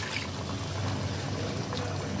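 Water pours steadily into a pan of chicken do-pyaza cooking on a gas stove, a continuous close splashing stream with no voices.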